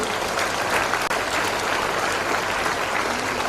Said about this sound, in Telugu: అమ్మాయికి మరొకసారి గట్టి క్లాప్స్ ఉండండి